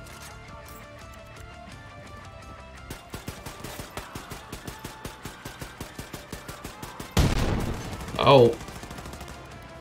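Enemy gunfire in Wolfenstein The New Colossus, where a steady run of rapid automatic shots is followed by a loud heavy blast, and a voice briefly exclaims near the end.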